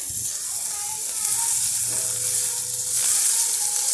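Cluster beans fry in a spoonful of hot oil in a pan, giving a loud, steady sizzle with bright hiss that holds throughout and swells briefly near the end.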